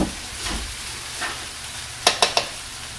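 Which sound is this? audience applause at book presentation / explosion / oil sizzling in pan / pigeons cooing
oil sizzling in pan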